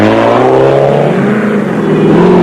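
Turbo diesel Land Rover racing off-road in a South African off-road race, a loud sustained engine drone with rising and shifting tone, close and continuous without talk.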